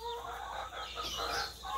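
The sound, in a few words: chicken clucking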